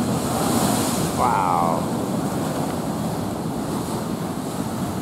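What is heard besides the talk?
ocean surf waves at tide pools, Montana de Oro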